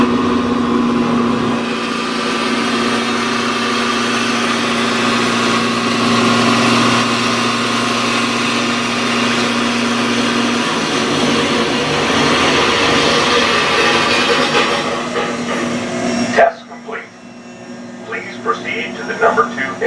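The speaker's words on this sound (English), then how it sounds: "You are now in the aft diesel generator." An aft diesel generator in a ship's engine room drones continuously, loud and close, then cuts off abruptly near the end, leaving a quieter room with scattered clanks.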